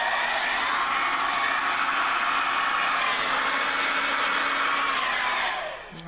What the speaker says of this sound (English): Come on, blow dryer. Give me some power.